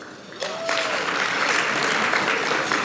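Audience applause at a water industry summit in Orange County, a 2019 conference hall crowd, rising suddenly after a brief lull into sustained, dense clapping that holds steady at full strength to the end.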